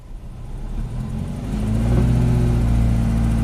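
A Subaru 2.5 SOHC engine with a cylinder 4 misfire revs under load, a rough, uneven mid-pitched drone climbing and steadying at higher RPM, close and loud with no speech.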